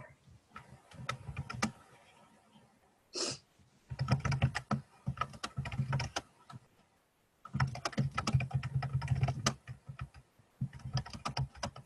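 Steady typing on a computer keyboard, rapid clacking keystrokes in bursts separated by short pauses, close and moderately loud with no talking.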